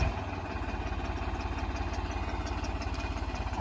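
A Holland 3630 tractor's diesel engine runs steadily close by, its low, even chugging pulse continuing throughout with no voices.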